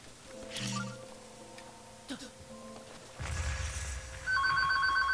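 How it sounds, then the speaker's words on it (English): An old-style bell telephone rings in a video game amid soft game sounds and a sharp clatter, its tones rising louder and brighter toward the end. "Whoa, that's a phone."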